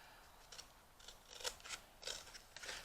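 Sewing scissors snip through material in several short, crisp cuts, quiet and close, with a small pause between each one.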